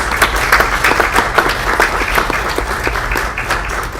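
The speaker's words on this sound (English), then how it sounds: "Let's give them all a big round of applause." An audience at a research presentation event breaks into loud, sustained applause, dense clapping from a full room continuing steadily throughout.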